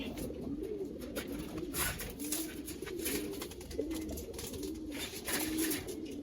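A female pigeon coos in repeated low, rolling phrases, close by, over a steady background hiss with other birds faintly around.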